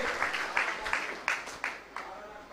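An audience at a village deity temple auction gives rhythmic, evenly spaced clapping, a steady beat of claps repeating for a few seconds at moderate distance.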